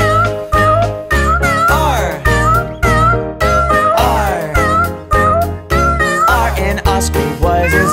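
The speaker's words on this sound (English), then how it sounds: "There was a farmer who had a cat, and Oscar was his name, oh." Loud, repeated cat meows are part of a bouncy nursery rhyme about a farmer's cat. The meows alternate with sung lines over a jingly children's music backing.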